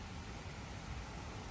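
Steady rain falls during a warm-weather shower with thunder, a continuous even hiss with no pauses and no voices.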